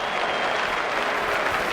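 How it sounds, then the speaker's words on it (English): Cricket crowd at Melbourne applauding a square drive during a 1981/82 Pakistan vs West Indies one-day match: a steady, dense wash of clapping from a large distant stadium crowd, even in level throughout. "Beautiful square drive, and applause there from Madassa"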